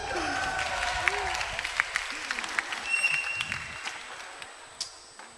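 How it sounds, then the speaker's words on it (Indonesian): A small stand-up comedy audience claps and cheers in a brief, scattered burst, with voices talking over the applause. "Tepuk tangan untuk Gian."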